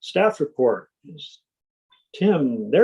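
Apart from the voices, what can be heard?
No everyday noises stand out.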